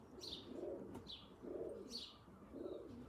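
Racing pigeons arriving at the loft, cooing in three soft rhythmic phrases with light chirps, fairly near and alone without talk.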